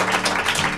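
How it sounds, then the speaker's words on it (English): Audience applause at a live bistro music show, a brief burst of dense clapping at steady loudness. "Let's have a round of applause and take it away."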